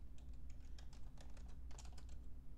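Rapid keystrokes of code being typed on a computer keyboard, a steady run of close, crisp clicks over a low constant hum, with no talking.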